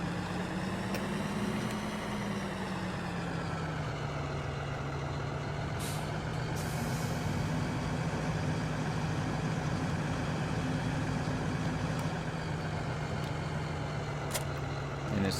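Truck in Farming Simulator 2013 reversing to hook up to a farm trailer: a steady engine drone with a gradually shifting pitch runs throughout at close range, with brief air-brake hisses and faint high beeps scattered over it.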